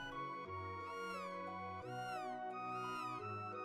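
A cat in the Chrono Trigger video game meows in three or four rising and falling calls, clear and steady over game music, with no talking.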